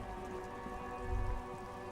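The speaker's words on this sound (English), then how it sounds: "Droplets of rain fall on the white on blue police livery of the motor carriage." Steady rain patters on the white and blue police livery of a motor carriage in Disco Elysium, a soft continuous hiss with a low rumble swelling briefly near the middle.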